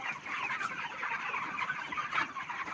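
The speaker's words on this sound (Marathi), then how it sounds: "दाट झाला पक्षी बघा मित्रांनो, दाट पक्षी आहे." A dense flock of broiler chickens about 2.5 to 3 kg each clucks continuously inside a crowded poultry shed, a steady mid-level chorus with no talk over it.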